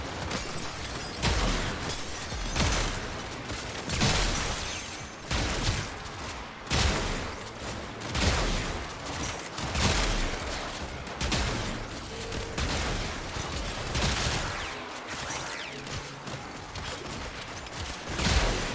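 Weapon fire in the looter-shooter Warframe, a Lich or Sister weapon, heard as repeated sharp bursts and cracking impacts in uneven clusters over nearly twenty seconds, moderately loud, with no talking.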